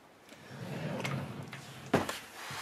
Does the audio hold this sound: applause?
no